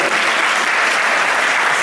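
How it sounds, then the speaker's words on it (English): Dense, loud audience applause fills a college magic-show hall, a continuous wash of many hands clapping at once with no pauses or voices standing out. "Please, everyone, give a big round of applause for Ethan Brown."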